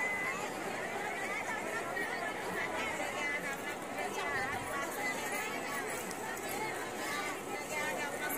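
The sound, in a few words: crowd of pilgrims at Jejuri temple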